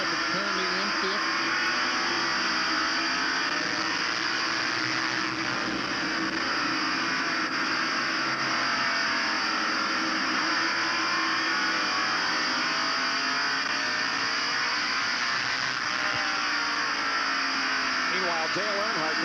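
NASCAR stock cars race past on the track at the 1990 Tyson Holly Farms 400, a loud steady engine roar that drones on for the whole stretch without letup, with commentary running over it.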